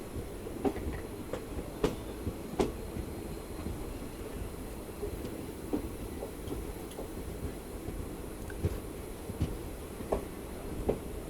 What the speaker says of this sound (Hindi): न्यू हैफलॉन्ग अपनी ट्रेन पहुंच रही है